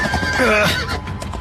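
A horse neighs and whinnies loudly and close by, with a faint clip-clop of hooves, in a tense chase scene from a Korean drama.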